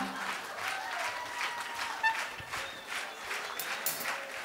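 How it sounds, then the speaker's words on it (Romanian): Audience applauding a children's band at an unplugged concert, a steady wash of clapping with faint crowd noise and a few brief sharp accents. "Vă rog frumos să-i aplaudați."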